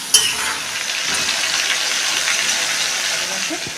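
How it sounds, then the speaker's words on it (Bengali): Potatoes fry in hot oil with a dense, even sizzle and a sharp clatter right at the start, then a continuous bubbling hiss at moderate loudness. "আলুটা আমি লাল লাল করে ভেজে নেব লাল লাল করে ভাজলে খেয়ে খুবই ভালো হয়"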